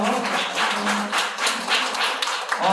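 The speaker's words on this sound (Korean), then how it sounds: "자, 박수 한번 쳐주겠습니다" A group claps at a church middle and high school youth Sunday worship service on Easter, a close, lively burst of rhythmic applause lasting a few seconds.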